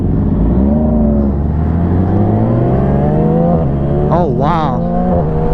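A 2017 Yamaha R6 sport motorcycle revving hard on a first ride, its loud, close engine whine climbing in pitch through the gears and then surging higher, with a brief excited exclamation from the rider.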